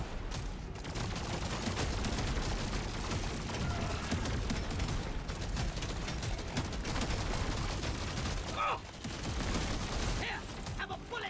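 An overclocked plasma carbine firing in the game Deep Rock Galactic, a steady unbroken stream of rapid shots with brief pauses, and someone talking over it.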